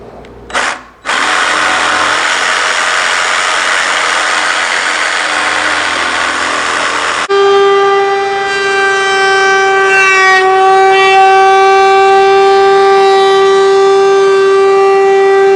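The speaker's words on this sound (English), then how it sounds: "this seems to be working for me, so I'm doing it this way with a jigsaw." A jigsaw cuts tapered wooden legs for an outdoor deck bar table. Its loud, steady buzzing whine starts abruptly, then shifts to a higher, tonal whir that holds steady through the rest of the cut.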